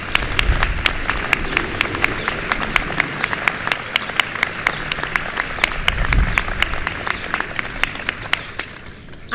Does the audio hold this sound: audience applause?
yes